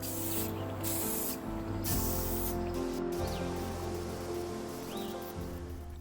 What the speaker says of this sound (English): Then we'll proceed to spray on several light coats of this lacquer sealer.